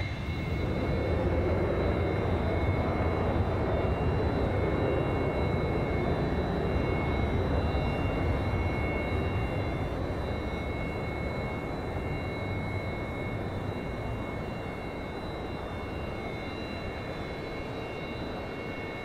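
A Sukhoi fighter jet takes off on afterburner, a steady, loud broadband roar with a high whine that holds throughout and eases slightly toward the end.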